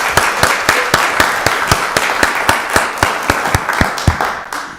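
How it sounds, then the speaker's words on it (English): Audience applause at a county board of commissioners meeting in Rockdale County, a steady run of loud, distinct claps from a small group, nearby, tapering at the end. "Let's give them another round of applause."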